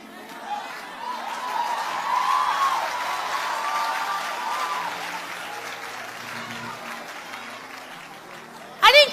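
A church audience claps continuously in a sustained wash of applause with some crowd murmur and laughter, ending with a sharp loud burst near the close.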